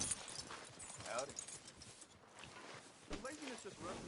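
Horse hooves clip-clop faintly in a steady walking rhythm in the video game Red Dead Redemption 2 while people talk over them.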